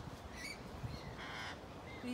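Rainbow lorikeets screech from the trees in a few shrill, scattered calls over steady background noise, with the flock heard at a moderate distance.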